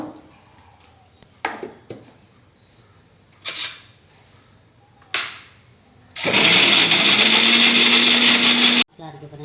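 A mixer grinder loaded with coconut and cumin for cabbage poriyal: a few clattering knocks and handling thumps, then a loud, steady whirring grind for about three seconds that cuts off abruptly.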